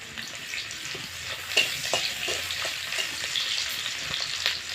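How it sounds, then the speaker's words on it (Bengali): Onions sizzle steadily in hot oil for a jackfruit curry, a dense, close frying hiss with a few stirring scrapes and no one speaking. "তেল গরম হয়ে গেছে, পেঁয়াজ দিয়ে দিচ্ছি।"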